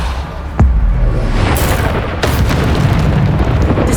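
A Bombarda blasting spell goes off in Hogwarts Legacy on PS5, a loud booming blast followed by a sustained rumbling roar and further heavy impacts, all close and dominant.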